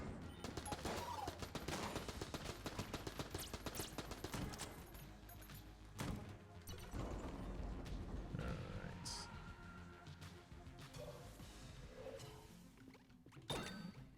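Crown of Guns gunfire in the video game Enter the Gungeon, with its shots sometimes explosive: a dense rapid volley of shots at first, then intermittent bursts, booms and game effects, loud and continuous.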